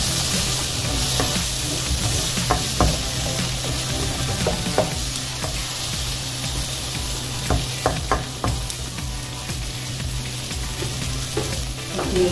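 Garlic and tomatoes sizzle steadily in a hot pan, with intermittent clinks and scrapes of stirring over the constant frying hiss, close and fairly loud, with no talking.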